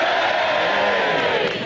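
Studio audience on a sports panel comedy show roaring together in a loud sustained crowd noise of jeers and cheers. The sound is dense, close and continuous throughout.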